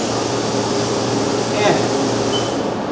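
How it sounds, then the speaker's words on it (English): A Haas CNC machine has its coolant switched back on, giving a loud steady broadband rush of spray and machine noise that swells briefly near the middle. "I'm going to turn coolant back on."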